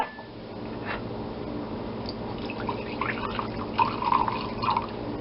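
Apple cider vinegar being poured from a bottle, a soft liquid trickle with a few drippy splashes toward the end, steady and fairly quiet with no talking.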